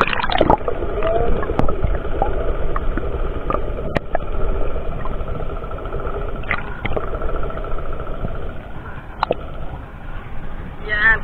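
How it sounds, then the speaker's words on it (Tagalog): A boat-mounted compressor engine runs for underwater net fishing, a steady mechanical drone with rattling clicks and occasional sharp knocks, heard close throughout while people talk over it. "Nag-andar ng makina. Ito siya nagdara, ito siya compressor."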